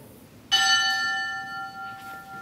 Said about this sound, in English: we will now have a roll call and a toll of the bell